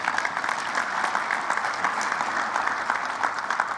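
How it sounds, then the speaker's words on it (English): An audience at an electronic media award ceremony applauds for a longtime radio broadcast partner, a dense, steady roar of many hands clapping throughout, fairly loud and close. "Yeah, you can applaud for Tim."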